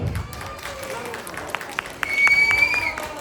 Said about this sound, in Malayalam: ജിനീഷ് ആൻഡ് ടീമിന് നല്ലൊരു കൈയടി